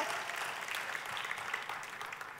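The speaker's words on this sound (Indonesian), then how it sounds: "tepuk tangan yang meriah buat Tuhan kita" Congregation applause in an Indonesian church service, a soft continuous patter of many hands clapping, fairly faint and distant in the room, with no speech over it.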